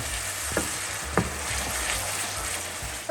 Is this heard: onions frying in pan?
yes